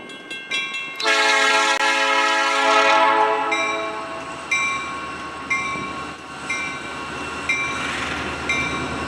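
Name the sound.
train shunting in rail yard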